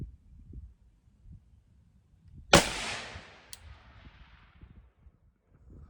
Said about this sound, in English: If I go to shoot with this low grip, let's see what happens to this rifle